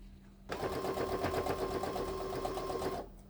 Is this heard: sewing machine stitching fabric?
yes